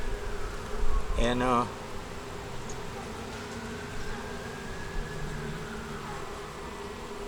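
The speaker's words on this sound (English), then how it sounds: "you shake the bees into the top box, which is empty" Steady buzzing of many honeybees being shaken into an empty top hive box fills the background, with a brief spoken phrase and a short squeaky sound early on.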